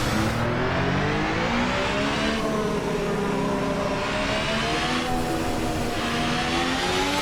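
Engine note of the ASR-H concept open-wheel race car in the Assetto Corsa racing game, a loud continuous high whine that rises through the gears with brief dips at each shift, no speech.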